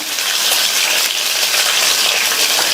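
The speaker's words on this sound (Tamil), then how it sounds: "கூடவே ஒரு கட் பண்ண காஞ்ச மிளகாவையும் சேர்த்துட்டு இதை லைட்டாக நல்லா வதக்கி விட்டுக்கலாம்." Green and dried chillies sautéing in hot oil for a brinjal stir-fry, a loud, steady, close sizzle and crackle running unbroken throughout.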